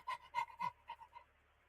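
A voice imitates a Yorkshire Terrier panting, giving about six quick breathy huffs in a steady rhythm that trail off, close and fairly quiet, with no talk.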